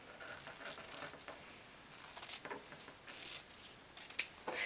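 Scissors snip through fabric for a non-surgical face mask in a series of quiet, uneven cuts, with soft rustling of the cloth between strokes and no voices.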